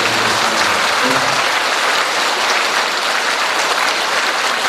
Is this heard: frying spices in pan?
no